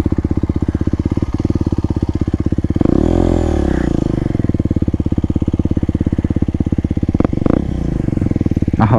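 An Aprilia SX 125 motorcycle engine runs close by, a loud, steady, rapid single-cylinder thrum with one brief rev swell early on and small clatters near the end.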